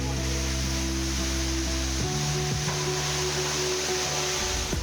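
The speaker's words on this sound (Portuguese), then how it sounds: "Essa é a Cachoeira Ruminantes. Ela é formada por 2 minas d'água." Ruminantes waterfall, fed by two springs, pours in a steady broadband rush, with low engine-like hums in the background and no voices.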